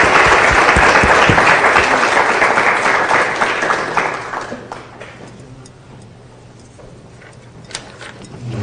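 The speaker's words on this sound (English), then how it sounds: "Please join me in giving a big round of applause to our intrepid reporters" An audience gives reporters a loud round of applause that fills the room at first, then thins and fades away over several seconds, leaving quiet with a few scattered claps.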